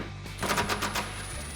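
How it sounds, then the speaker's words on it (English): An impact wrench fitted with a 10mm socket rattles off a headlight bolt on a 2005-2009 Mustang, a short close burst of rapid hammering lasting under a second. "I got my 10mm back on my impact. There are 3 10mm bolts holding this headlight in."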